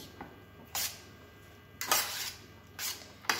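Cream and spices for a vegetable gratin are stirred in a bowl, giving a few short, scraping, splashy strokes with quiet pauses between them, close and fairly faint.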